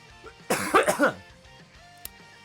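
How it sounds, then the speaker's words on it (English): A single harsh cough with a throat-clearing rasp, close and loud, followed by quiet and a small click. "I have to cough again."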